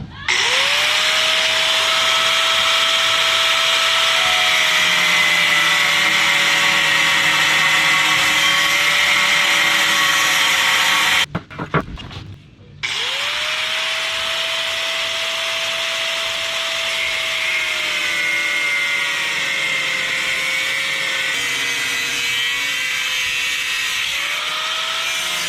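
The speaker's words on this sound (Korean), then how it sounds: "네, 한번 직접 이거 잘라 볼게요." A Stanley SG7100 slim angle grinder cuts through material with a loud, steady high whine, briefly stopping midway before the motor spins up again and keeps cutting, close and continuous with no talk.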